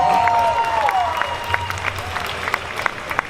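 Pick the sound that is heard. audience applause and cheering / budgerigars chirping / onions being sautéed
audience applause and cheering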